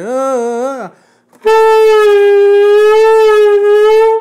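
A saxophone imitates an ambulance siren, first a wavering tone that rises and falls, then after a short pause a long sustained note with a slight wobble, practising vibrato.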